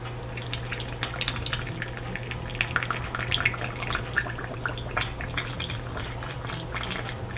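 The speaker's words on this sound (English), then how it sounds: "And now we're going to top this off with the pickling solution." Pickling solution poured steadily into jars of chain pickerel, a continuous trickling, splashing liquid fill with small drips and gurgles, close and fairly loud over a low steady hum.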